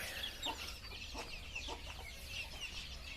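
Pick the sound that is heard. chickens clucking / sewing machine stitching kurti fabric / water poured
chickens clucking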